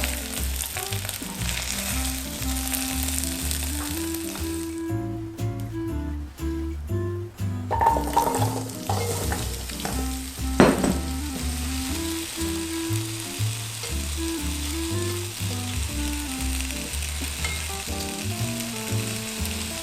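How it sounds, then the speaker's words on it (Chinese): Potatoes and carrots pan-fry in a pot for a vegan potato stew, giving a steady close sizzle throughout with a few clinks and stirring noises midway and no voices. "再来煎我们的马铃薯跟红萝卜，一样把它煎到金黄色"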